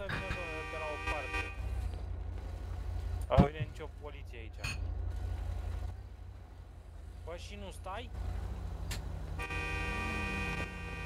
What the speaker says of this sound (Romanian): Te claxonezi până te dai.